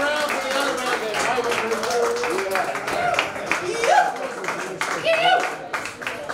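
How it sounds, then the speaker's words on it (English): An audience claps at a live concert at Bandito's in Richmond, Virginia, the applause steady and mid-level throughout while voices and a few stray tones sit over it. "Round of applause for the other man"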